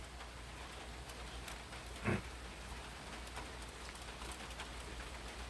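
Heavy rain falls outdoors as a faint, even, continuous hiss. A single soft thump sounds briefly midway.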